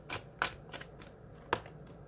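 Tarot cards being shuffled by hand during a reading, a few short papery riffling bursts spaced unevenly, close and fairly quiet with no talking.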